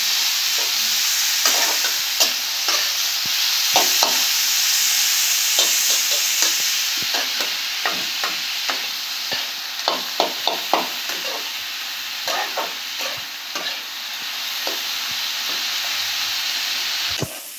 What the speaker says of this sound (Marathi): आता आपण लसूण घालून घेऊया, भाजून घेऊया थोडा वेळ